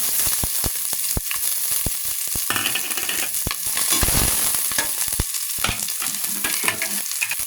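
Ginger and onion sauté in a pot as the base for pork nilaga, a loud, close sizzle of frying broken by repeated stirring scrapes and clatters against the pot.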